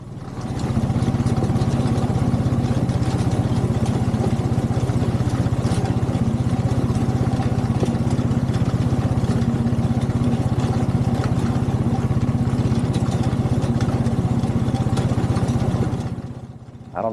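A tractor engine drones steadily and loudly while mowing hay with a clippings collector attached, a continuous close mechanical roar that holds throughout and then cuts off at the end.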